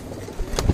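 Domestic Hyderabadi pigeons give a brief, close, low coo, with a soft rustle just before it.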